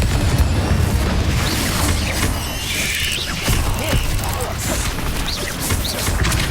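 Fire and blasting spells, Incendio and Confringo, go off in the Hogwarts Legacy video game as loud, dense booms and crackling bursts over continuous combat noise, with a voice faintly present underneath.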